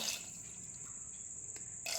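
A glass of water is poured into a pot of tomato sambar, a brief close splashing gush with a thin hiss, alone and fairly quiet.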